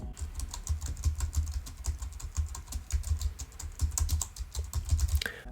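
Rapid, steady clicking of keys on a computer keyboard, close and continuous, picked up by a Blue Yeti microphone, with a soft background hiss and no voices.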